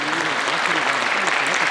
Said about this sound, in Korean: 다시 한번 여러분 큰 박수 부탁드리겠습니다.